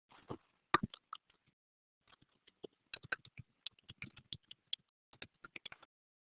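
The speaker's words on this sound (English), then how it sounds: "A couple people are typing." Scattered keyboard typing from a couple of people, soft bursts of clicking keys with pauses between runs, fairly quiet and close, no talk over it.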